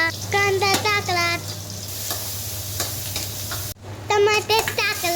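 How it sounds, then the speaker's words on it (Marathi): Chopped onion sizzles in hot oil in a kadai, a steady frying hiss running through the clip beneath tuneful background music that drops out briefly near the end. "भाजी कढई घेतली, तेल गरम केला, कांदा टाकला"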